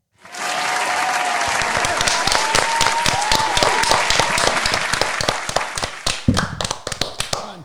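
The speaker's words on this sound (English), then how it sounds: "I'm gonna do a clapping thing" Hand clapping at close range, a dense burst of rapid sharp claps that starts abruptly and runs steadily throughout, thinning into sparser, more separated claps near the end.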